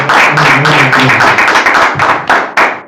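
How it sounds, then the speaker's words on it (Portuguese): Congregation at a church service clapping loudly and close, a dense burst of applause with sharp individual claps standing out over about three seconds. "dá uma salva de palmas para o nosso Senhor Jesus Cristo"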